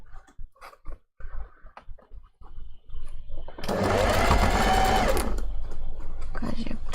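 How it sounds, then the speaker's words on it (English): A sewing machine runs in one continuous loud burst, stitching a seam on an appliqué fursuit hand paw, after a stretch of quiet handling noises and a voice talking. "you can also machine sew it like I'm doing"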